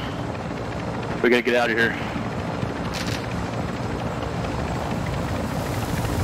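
A helicopter in Call of Duty: Modern Warfare 2 DMZ mode drones with a steady, loud rotor rumble that fills the whole scene, while a character shouts briefly over it.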